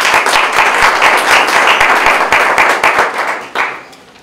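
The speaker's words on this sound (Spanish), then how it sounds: "Un aplauso, por favor." Loud, dense audience applause at the inauguration ceremony of a museum night event, steady hand claps throughout that thin out and fade toward the end.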